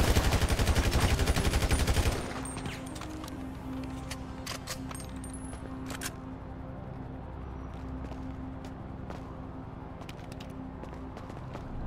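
Gunfire in GTA V opens with a dense, loud burst of rapid automatic shots for about two seconds, then settles into scattered faint pops and clicks over a steady low background hum.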